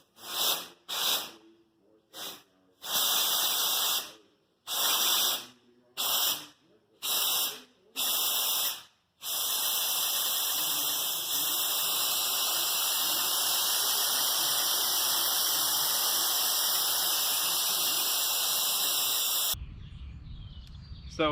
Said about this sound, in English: So I got compressed air blowing through this end of the hose,